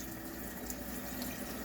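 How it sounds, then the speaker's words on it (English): Tap water runs steadily over a cutting board being rinsed in a kitchen sink, a soft continuous splashing hiss with no talk. "I'm just rinsing the cutting board for right now."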